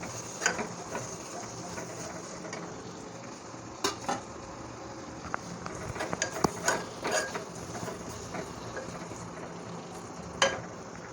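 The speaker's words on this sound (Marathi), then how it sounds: "मी दोन चमचे इतकं शेंगदाण्याचं कूट घालून घेत आहे मिक्स करून घेऊया" Crushed peanuts being stirred into guar bean curry in a pan, with scattered scraping and clinking of a spoon against metal over a low background hiss, no talking.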